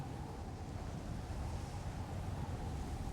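Wind blows hard around a small rowboat at sea while waves wash steadily against it, a soft, continuous rushing heard alone at a faint level.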